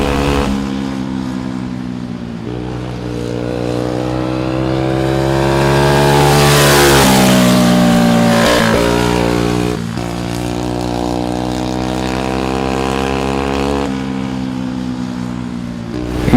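Racing kart engines rev loud and close at a raceway anniversary race, a sustained buzzing drone that climbs and falls in pitch as karts pass, one of them running a four-stroke motor.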